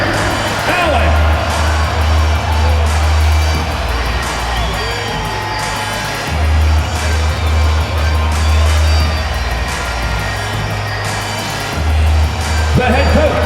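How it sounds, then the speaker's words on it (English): A virtual arena crowd in NBA 2K22 at a Brooklyn Nets versus Cleveland Cavaliers game, loud sustained cheering and applause with whoops and shouts, while an announcer's amplified voice booms over the crowd in bursts. "Another round of applause for your Cleveland Cavaliers."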